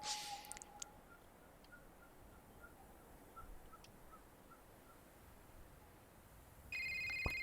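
In the video game A Short Hike, soft outdoor ambience and faint bird calls give way to a phone ringing near the end, a bright electronic ringtone that cuts in sharply and holds.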